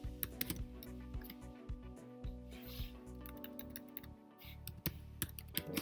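Someone types on a computer keyboard nearby with quiet, irregular key taps and short clicks under a faint steady hum. No one speaks.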